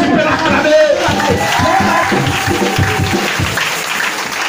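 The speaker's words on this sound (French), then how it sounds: "Est-ce que tu peux l'acclamer?" A church congregation applauds and cheers in a loud, crowded mix of clapping and shouting voices that keeps going for several seconds.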